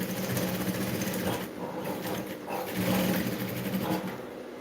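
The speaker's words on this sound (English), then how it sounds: "So I'm sewing on my side dart." A sewing machine stitches a side dart in a garment, running in a continuous fast whirring buzz with brief slowdowns and restarts, close and alone with no talking.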